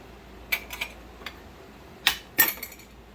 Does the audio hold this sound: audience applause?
no